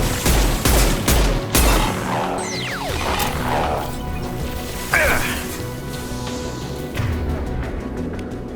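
Mass Effect 2 combat with an impact shot fired amid a rapid series of sharp, loud gunshots and crashes, followed by scattered blasts and a whooshing projectile, busy with overlapping battle noise.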